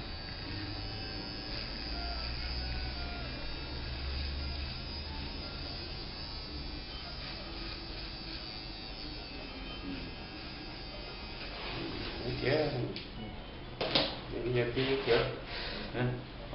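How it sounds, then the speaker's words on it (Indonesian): Electric razor buzzing steadily through a quick shave at a barber shop, a constant close hum with people talking over it and a few louder handling knocks and clatters near the end. "Sekarang cukur cepat."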